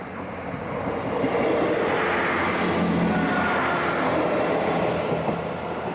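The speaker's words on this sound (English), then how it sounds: "I'm just waiting at the railway lines for a train to get past." A train rolls slowly past a railway crossing while road traffic waits, a steady loud rumble and clatter that swells and holds for several seconds, with no talking.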